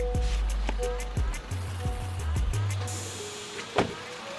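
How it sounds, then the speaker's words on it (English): A Honda car with 60,000 miles sits running on a hot day in Baltimore, its engine giving a low, steady hum close by, with scattered clicks and knocks over it. "Sounds like a Honda to me."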